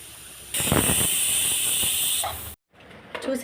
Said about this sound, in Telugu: స్టవ్ మీద పెట్టి ఒక 5 విజిల్స్ రానివ్వాలి.